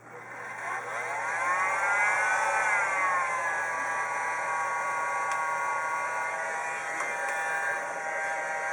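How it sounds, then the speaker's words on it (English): A heat gun spins up and blows hot air during an iPad 2 repair, a steady whining fan hum that rises in pitch over the first seconds and then holds constant, close and moderately loud with no talking. "And get this heat gun going."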